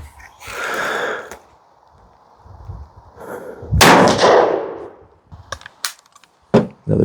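Charles Daly 101 single-shot folding shotgun firing a slug at a target outdoors, one sharp loud blast with a ringing decay, among rustling, clicks and breathy handling sounds before and after.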